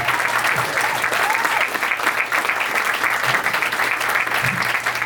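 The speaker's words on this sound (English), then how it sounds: "Save some applause for him when he gets up here" Steady, loud applause from a comedy club audience, sustained evenly across the whole stretch with a faint crowd murmur underneath.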